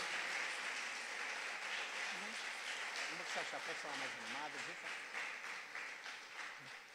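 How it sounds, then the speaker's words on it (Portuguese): A church congregation applauds the Lord during a Sunday morning service, a steady wash of clapping that runs the full length with a sung or spoken voice rising briefly in the middle. "Você pode aplaudir o Senhor? Aplauda o Senhor."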